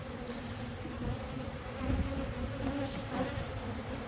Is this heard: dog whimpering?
no